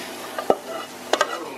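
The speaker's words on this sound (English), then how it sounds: "I have the lentils and the sweet potatoes, and I'm gonna mush everything together" Soft, wet squelches from cooked lentils and sweet potatoes being mashed together in a bowl, coming as two short, close bursts about half a second apart against quiet kitchen background.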